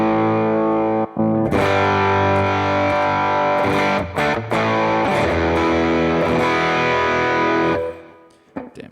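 Sustained distorted electric guitar chords through an amp impulse response pedal, sounding like a Fender Twin amp, loud and thick, with brief breaks before fading out at the end.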